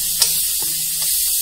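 Chopped onions frying in oil with a little salt in a pan for a sickle senna leaf palya, giving a steady bright sizzle throughout, with a couple of faint stirring clicks.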